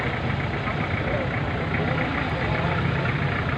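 Suzuki Baleno 2002 car engine idling close by, a steady, even rumble with a continuous mechanical hum and no clear breaks for the whole stretch.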